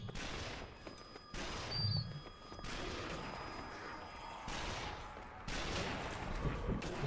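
Scattered gunfire in the video game Zombie Army Trilogy, set in Berlin: several separate shots and short bursts spaced across the stretch, fairly faint against a low game background, with no voices over it.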